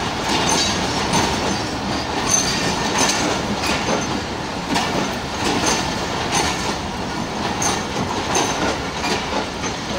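The Hazara Express, a Pakistan Railways passenger train, rolls along the rails with a continuous loud rumble and steady clickety-clack of the wheels, recorded up close.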